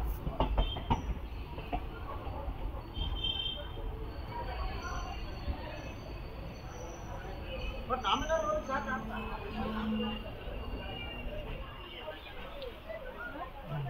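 Mysuru–Talguppa Intercity Express running on rails after leaving Hassan Junction, a steady rumble of train wagons with faint clickety-clack throughout, heard from on board with background voices and cabin noise mixed in.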